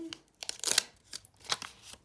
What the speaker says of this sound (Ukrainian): Відкриваємо наш пакетик ось такий.